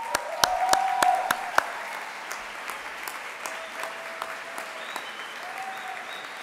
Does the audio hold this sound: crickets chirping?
no